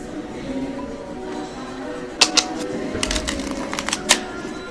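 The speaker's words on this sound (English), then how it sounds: "shuffle the deck" A deck of playing cards shuffled during a card trick, a handful of sharp close riffling clicks and snaps following a quieter stretch with faint voices.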